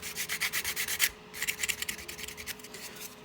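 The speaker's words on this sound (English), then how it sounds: "It's just like a sanding, finger sander thing." A finger sander scraping printed details off a model vehicle: close, quick back-and-forth rasping strokes in a steady rhythm, a short pause, then lighter, quicker strokes.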